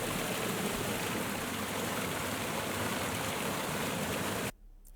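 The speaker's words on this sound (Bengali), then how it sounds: "এখানে একটি ছোট ঝর্ণা রয়েছে।" A small waterfall in the hills at Himchari, Cox's Bazar, gives a continuous rushing splash of falling water that cuts off abruptly near the end.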